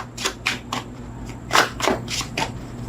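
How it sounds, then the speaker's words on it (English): A tarot card deck is shuffled by hand in a series of close, crisp riffling bursts with short pauses between them. "3 outcome cards off the top of the deck after this shuffle."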